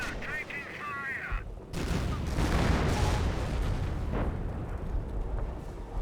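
Sector artillery barrage in the WWII strategy game Company of Heroes, a sustained rumble of overlapping shell blasts rolling for several seconds after a brief electronic radio chirp, loud and continuous.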